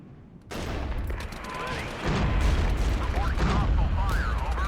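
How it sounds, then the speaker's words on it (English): Artillery barrages and gunfire rumble in the World War strategy game Regiments, with dense layered booms and crackling volleys building steadily louder in a continuous battlefield din. "We have artillery barrages ready. Let's use some of them over here at the rail station."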